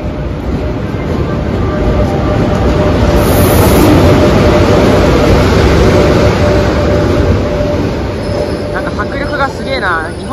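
A train rumbles loudly past close by at a station in Nizhny Novgorod, Russia, heard from a low platform, a heavy continuous roar of wheels and carriages lasting throughout, with faint voices mixed in.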